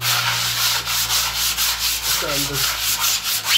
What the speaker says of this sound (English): put an undercoat on and then sand the